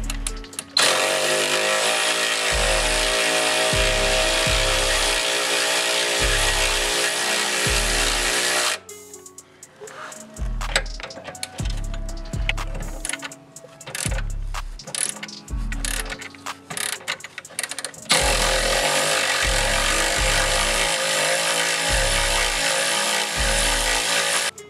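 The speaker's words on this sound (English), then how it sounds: "I'll grab my Milwaukee" Milwaukee power tool spinning out 14mm bolts on a BMW 535i F10, a loud rapid ratcheting chatter in repeated bursts with short pauses between, close up and without talk.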